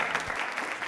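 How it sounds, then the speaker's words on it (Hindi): Brief burst of audience clapping at a televised Rajasthan quiz show, dense and even for about a second. "तालियां एक बार जोरदार हो जाएं।"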